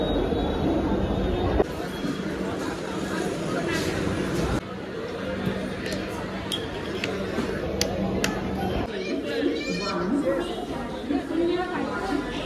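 Railway station ambience with a delayed train arriving: crowd chatter and echoing announcements mix with train rumble and occasional high metallic squeals from wheels.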